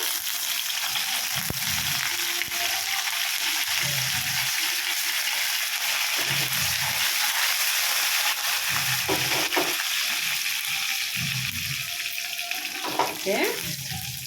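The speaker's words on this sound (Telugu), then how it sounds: "తాలింపు మంచిగా చక్కగా దోరగా వేగింది" Chopped onion, cumin and curry leaves fry in hot oil for a tempering, giving a steady, continuous sizzle with faint low sounds underneath.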